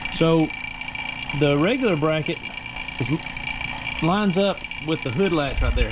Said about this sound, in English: I've got the vacuum pump on it getting ready to put Freon in it.